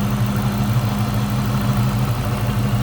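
A 2003 Ford Mustang SVT Cobra convertible with a supercharged, hand-built 4.6-liter DOHC V8, cold air intake and aftermarket exhaust, idling with a steady, close, low rumble and no one speaking.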